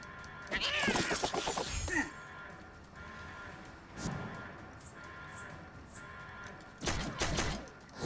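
Cats meowing in the video game South Park: The Fractured But Whole, two loud drawn-out yowling bursts at the start and end with quieter mechanical sounds between.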